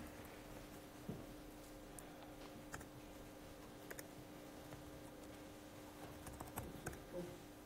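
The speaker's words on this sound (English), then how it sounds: "I go to another terminal. And I type some command." Computer keyboard keys tapped at a terminal as commands are entered, a faint run of irregular clicks over a steady electrical hum, close and quiet with no talking.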